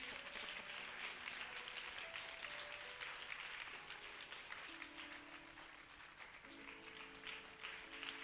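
A church congregation applauds steadily with cheering voices, a dense continuous wash of clapping throughout, with sustained tones and music carrying underneath.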